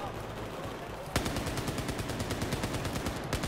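Rapid automatic gunfire in the Battlefield 4 Shanghai mission, a sudden loud burst that starts after a second of ambient noise and continues as a steady close stream of shots.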